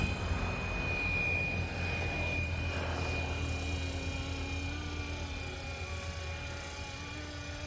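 A Bell 206 scale size 470 RC helicopter fitted with a four-blade rotor head and set up for inverted flight, giving a continuous high motor whine over a steady rotor drone that fades slightly, heard alone without speech.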